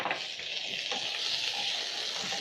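Onions, garlic and assorted peppers sautéing in a pan for pepper chicken, a dense continuous sizzle that stays close and loud throughout with no speech.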